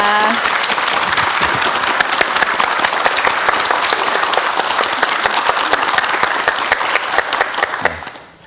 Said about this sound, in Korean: 큰 박수 보내주시면 네, 고맙겠습니다